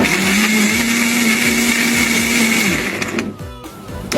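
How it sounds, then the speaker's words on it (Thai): A kitchen blender whirs steadily as it purées Thomas tomatoes with mixed fruit, its loud motor whine holding for a few seconds before cutting out into a brief clatter. "ไปเอาไปปั่นกัน ทุกสิ่งอย่าง ใส่ลงไปในนี้ค่ะ เริ่มปั่นเลยค่ะ"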